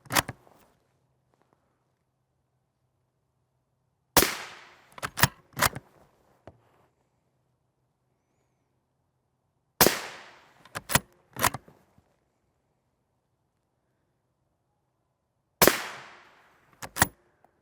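Gunshots strike NIJ Level IV RF3 body armor plates in loud, sharp cracks, fired in bursts of three or four shots with long silent gaps between each volley.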